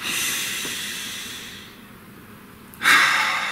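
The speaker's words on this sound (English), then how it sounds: "Take a nice deep breath." A deep breath drawn in and let out slowly, a soft airy hiss fading gradually, then a sharper exhale near the end, close and alone with no talking.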